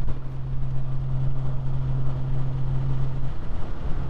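A Triumph Stag car overtaking on a road drive, a steady low engine drone with wind buffeting, heard from inside a moving car, fairly close and continuous before it fades slightly at the end.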